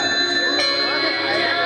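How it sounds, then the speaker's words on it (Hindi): Temple bells ring with bright, sustained metallic tones, and one clear strike lands partway through, while voices can be heard underneath. "मंदिर में घंटियां बज रही है।"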